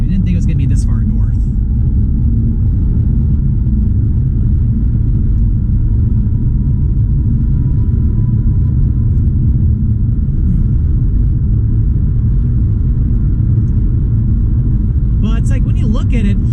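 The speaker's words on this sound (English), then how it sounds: "We got some heavier traffic already." Heavy freeway traffic on I-45 South in Houston, heard from inside a moving car as a steady, loud low rumble of road and engine noise that runs throughout, with brief higher rattles at the start and end.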